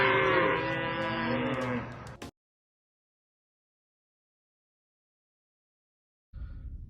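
Cows give a loud, close, drawn-out moo, then silence falls, and another low bovine call starts near the end.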